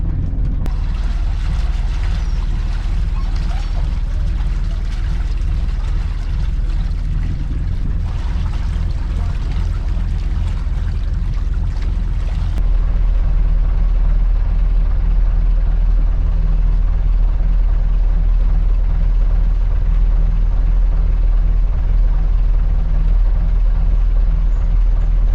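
A boat's engine runs steadily as the vessel gets under way near Dodd Narrows in the Pacific Northwest. It is a loud, continuous low drone with water and wind noise, and its pitch settles lower partway through.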